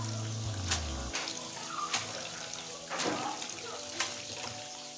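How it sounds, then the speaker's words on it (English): Water splashes and sloshes steadily as adémé leaves are swirled and rinsed in a basin, with occasional sharper splashes and running water throughout. "I wash it like 4 times, changing the water."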